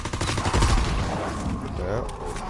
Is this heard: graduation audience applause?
no